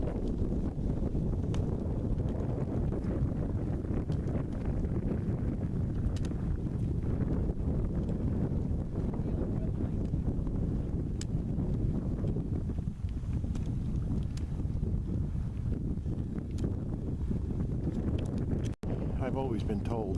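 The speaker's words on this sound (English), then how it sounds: "not only is it standing out, it's whipping quite bad" Strong wind roars steadily across the microphone beside a lake at Blue Marsh, with a flag whipping hard in the gusts, and a voice talks over the constant rush.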